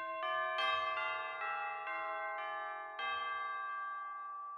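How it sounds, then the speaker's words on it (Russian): Sampled orchestral tubular bells from the CinePerk library by CineSamples ring out in a series of about seven clear strikes, each note sustaining and overlapping the next, bright and resonant with no voices. "а просто колокола."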